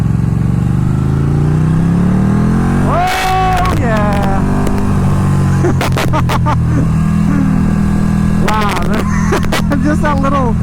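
A sportbike in full race mode revs under sharp throttle yanks, its engine note sweeping up through rising harmonics in a few quick bursts over a steady idle-like drone. A loud, near recording, with an excited voice exclaiming at one point.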